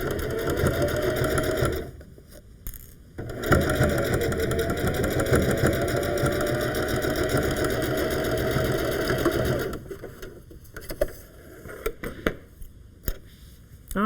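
Sewing machine stitching through a thick upcycled sweater, a steady close mechanical whir with two short pauses near the start and stop-start bursts toward the end.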